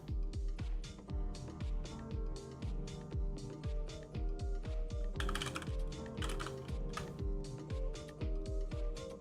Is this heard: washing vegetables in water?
no